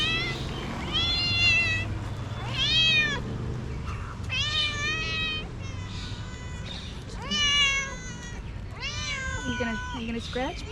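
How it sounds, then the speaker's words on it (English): Several small cats met at the entrance to a park in Pune meow repeatedly, with rising and falling calls coming close together, and a person talks quietly underneath. "Some vocal little kitties stopped us on the way into the park."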